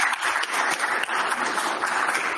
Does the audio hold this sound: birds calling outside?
no